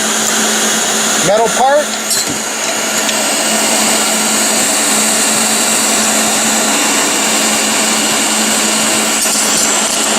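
Leister hot air plastic welder blowing a steady, loud rush of hot air throughout, with a brief voice near the start.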